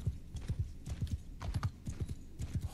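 Horse hooves galloping in the video game Mount & Blade II: Bannerlord, a steady rapid clip-clop rhythm that repeats throughout, close and clear with no talk.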